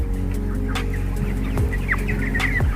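Broiler chickens cluck steadily inside a closed poultry house, a dense flock chorus with scattered louder clucks over a constant hum of fans or machinery.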